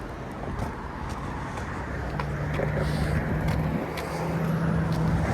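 Road traffic beside Highway 401 in Toronto's Etobicoke area, heard on foot near Islington Avenue: a continuous rumble of passing cars and trucks that swells slightly louder toward the end, with a faint engine drone running through it.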